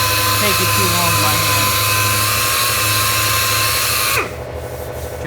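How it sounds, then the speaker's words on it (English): A power sander works over the body panels of a 1965 Ford Falcon race car during bodywork prep, a loud, steady whirring drone with a scraping texture that runs continuously and cuts off near the end. "let's just continue on sanding."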